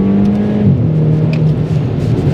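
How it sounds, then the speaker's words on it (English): A Mk5 Volkswagen Golf GTI with a 2-litre turbocharged four-cylinder engine drones loudly and steadily up close, its pitch dipping briefly as if shifting gear. "it's paired with honestly a pretty good sounding 2-litre turbocharged 4."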